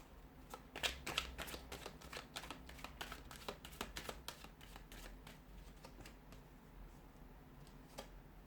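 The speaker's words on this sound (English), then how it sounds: "So we'll give the cards a shuffle" Tarot cards being shuffled by hand, a quick series of crisp riffling snaps and taps, close and fairly quiet, thinning out toward the end.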